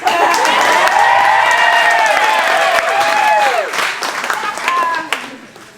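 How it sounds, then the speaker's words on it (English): Wedding reception guests applaud the bartenders, loud sustained clapping mixed with cheering, whistles and shouted voices, tapering off toward the end. "let's give a round of applause to the bartenders"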